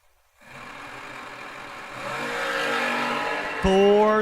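A supercharged Hemi engine in an outlaw drag race car starts after a moment of quiet, revs up and builds steadily louder, then jumps to a sharper, harder roar near the end.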